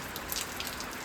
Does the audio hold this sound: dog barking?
no